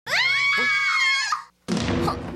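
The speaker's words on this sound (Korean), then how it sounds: "갑자기 비명소리가 들려옵니다" A loud, sustained high-pitched scream from an anime scene in Detective Conan rings out for over a second, then cuts off and gives way to a brief burst of muffled noise.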